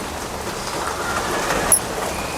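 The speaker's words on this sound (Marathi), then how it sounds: "खूपच पाऊस आलाय." Heavy rain pours down in a windy downpour, a dense, steady roar of water with no pauses, loud and close throughout, with no voices.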